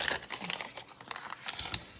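Paper being torn by hand to remove excess from a folded sheet while crafting an accordion ephemera wallet, a quick series of close, crisp rips and crinkles, fairly soft, with no talking.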